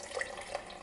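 Chicken broth pouring into a soup pot for leftover turkey soup, a soft, faint watery trickle and splash lasting under a second.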